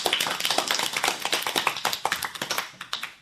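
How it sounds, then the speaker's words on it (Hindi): An audience at a girls' school performance event claps enthusiastically, a close, lively patter of many individual hand claps fading slightly toward the end. "तो जोरदार तालियां"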